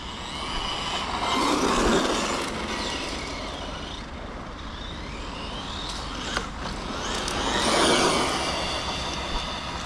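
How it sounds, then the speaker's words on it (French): An Arrma Vorteks 2WD RC car with a 3800kv motor runs with whining, slightly mismatched transmission gears, giving a continuous broad roar that swells and fades as it drives, with no talking. "on est un peu bruyant sur la transmise parce que j'ai pas tout à fait exactement le bon module de pignon"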